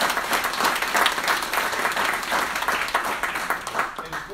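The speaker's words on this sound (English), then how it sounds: "If we can give them a round of applause." An audience at a Forward March event in Palm Beach bursts into applause, a sustained, even wash of many people clapping that holds steady for several seconds.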